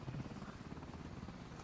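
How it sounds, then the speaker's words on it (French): A military helicopter in the game BRM5 chops steadily with a low rotor thump, faint and distant-sounding, continuous throughout with no talk. "Hélicoptère, tu me fais un tour au-dessus"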